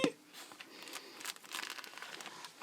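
A plastic mailer envelope holding stickers is torn and opened by hand, giving close, crisp crinkling and rustling in uneven bursts, with no talking.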